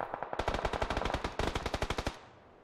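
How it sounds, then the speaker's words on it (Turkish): Rapid automatic gunfire in a PUBG firefight: two fast bursts of evenly spaced shots, the second after a brief break, ending in a fading echo tail. "Yine sıcak bir çatışma başladı burada."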